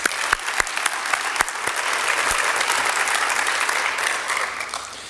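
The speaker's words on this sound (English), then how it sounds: "Another big round of applause for Hillsboro Hawk Dream Teamer" A crowd claps steadily at a high school winter sports awards ceremony, a dense and loud round of applause with a few sharp individual claps near the start, fading slightly toward the end.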